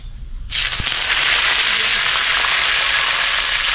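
Cumin seeds and fresh curry leaves hit hot mustard oil, bursting into a sudden loud sizzle about half a second in that holds steady and crackling to the end.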